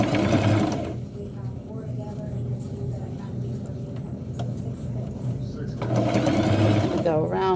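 A sewing machine stitches a burial gown in steady, loud bursts at the start and end, with a quieter stretch in between where someone speaks over a low hum.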